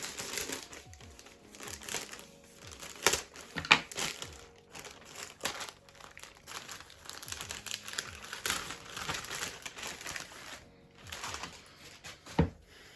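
Plastic packaging crinkles and rustles in repeated bursts, close and fairly quiet, with short pauses between handlings and no talking.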